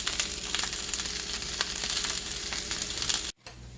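Butter sizzles and crackles steadily in a pan beside a roll of goetta, a dense continuous fry with small pops that cuts off abruptly near the end.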